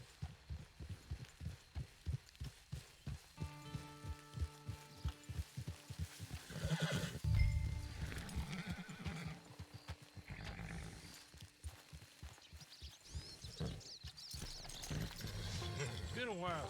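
A horse whinnies loudly midway, with hoof clops and other game sounds around it in Red Dead Redemption 2 Online, while a voice talks intermittently over the scene.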